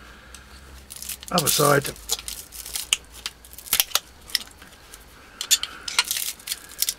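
Cutters snap and crunch through cloth-sheathed iron cable pulled from a scrapped motor winding, giving sharp, irregular clicks and crackles at close range while someone speaks briefly.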